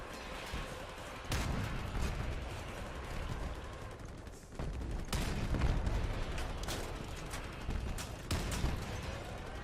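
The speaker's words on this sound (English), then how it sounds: "I'm gonna shoot first at this guy." Vehicle cannon fire in the video game Crossout: heavy booming shots land at irregular intervals over a dense, continuous rumble of battle noise, with several sharp, loud blasts standing out.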